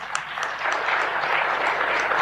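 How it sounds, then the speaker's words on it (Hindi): Applause from the audience at a spiritual satsang gathering, dense clapping that stays steady and fairly loud for a couple of seconds, with no voices over it. "इनके लिए जोरदार तालियां।"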